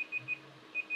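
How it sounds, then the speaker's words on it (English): A digital timer beeps out a quick series of short, evenly spaced electronic tones, moderately loud with a short gap midway and no voices. "Timer is done."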